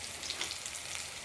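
Onion fries in a pan for a dhaba-style garlic fenugreek curry, a faint, even sizzle with a soft steady hiss and no voices.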